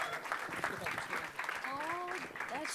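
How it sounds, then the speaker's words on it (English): An audience at a press event for the unveiling of a jersey claps in a fairly quiet, steady patter, with voices talking and cheering over the applause. "Round of applause, guys."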